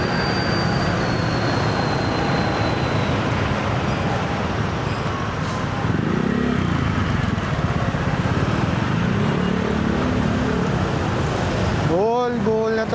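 Vehicles move through a flooded street at high tide in Malabon, Metro Manila: a continuous heavy rumble of engines and passing traffic, with a brief rising horn-like tone near the end.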